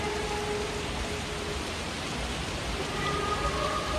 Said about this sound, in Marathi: मस्त बाहेर पाऊस चालू आहे